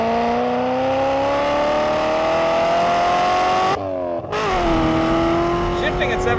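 Engine of a 1985 C4 Corvette kart driving and revving, its loud, steady harmonic drone rising in pitch, cut briefly by a shift before climbing again.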